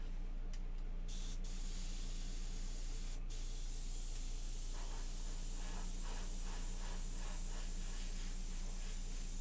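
Spray paint hissing from a can or airbrush onto a Yndrasta miniature, a continuous close hiss with slight pulsing over a low steady hum, no talking.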